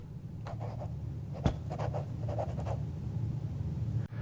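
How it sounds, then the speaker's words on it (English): Pens scratch on paper in a quiet exam hall, a series of faint, brief scraping strokes in irregular clusters over a steady low room hum, with no talking. "filled only with the sound of pens scratching on paper"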